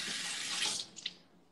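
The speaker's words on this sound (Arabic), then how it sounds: "وسير غسل يدك وغسل يدك" A tap runs with a steady hiss while hands are washed, close and moderately loud, then the flow stops abruptly with a couple of small splashes and drips.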